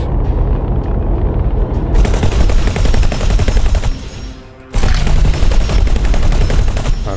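Ship guns firing in the space game X4, a loud, continuous rattle of rapid shots that drops out briefly and then resumes just as dense, with heavy low rumble underneath.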